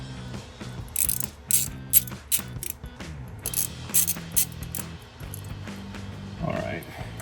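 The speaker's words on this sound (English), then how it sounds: "you're going to definitely want to speed things up by using a ratchet." A hand ratchet tightens bolts on a cold air intake for a GMC Sierra 1500, giving several close bursts of fast clicking separated by short pauses, with light clattering at the end.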